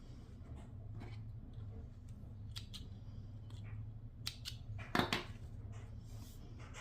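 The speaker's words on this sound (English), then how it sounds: "take my small pair of scissors, and I'm just going to remove these threads" Small scissors make a series of quick, light snips trimming loose threads on a sewing project, irregular and close, over a low background hum, with a slightly louder cluster of cuts near the end.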